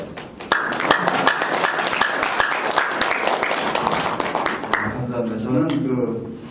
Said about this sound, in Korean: 박수를 한번 치고 시작했으면 좋은 것 같습니다